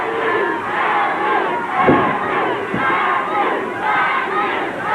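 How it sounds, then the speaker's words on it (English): A crowd at a 1985 Stampede Wrestling TV match chants loudly and rhythmically for Bad News Allen, a dense roaring arena chorus that pulses in waves and is heard close and sustained with no commentary over it. "The crowd chanting for Bad News Allen."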